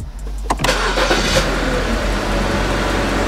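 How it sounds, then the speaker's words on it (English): A car engine cranks briefly and catches, then settles into a loud, steady idle close by, with no talking over it. "Let's go ahead and start the car."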